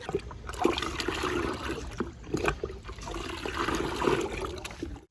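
Water poured into a thick homemade plant-growth liquid fertiliser (drava jeevamrutham) to thin it, a steady splashing, trickling pour that runs close and continuous for about five seconds with no talk.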